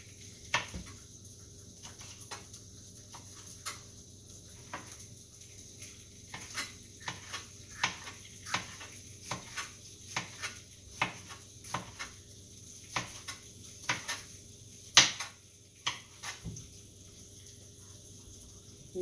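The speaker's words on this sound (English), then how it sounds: "I've got the bacon in there already going, and that's going to give me my grease to work from" Bacon fries in its own grease in a pan with a faint, steady sizzle, broken by irregular sharp taps and scrapes of a utensil against the pan.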